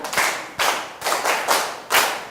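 Five short bursts of group clapping at a school in Cameroon in quick succession, each a loud smack of many hands that swells and fades within about half a second.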